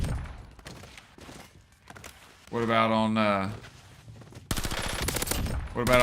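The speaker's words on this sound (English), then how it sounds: "Can you hear the game effects on YouTube and stuff? Can you hear all the gunshots and everything?" Rapid bursts of gunfire from a game play under someone talking, with a loud, sustained stretch of automatic fire near the end.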